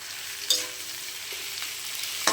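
Onions frying in a pan at home after salt is added, a steady soft sizzle with faint crackles, punctuated twice by sharp clinks of a utensil against the pan.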